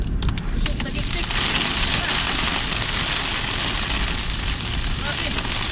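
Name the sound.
heavy rain pattering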